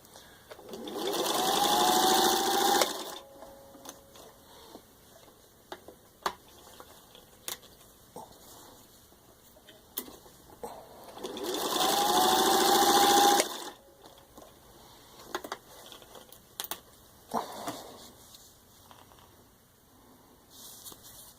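A rewired, serviced heavy-duty vintage 1952 Singer 15-91 sewing machine stitches through four layers of thin jacket leather in two loud, steady runs of about three seconds each, with quieter clicks and handling noises in between.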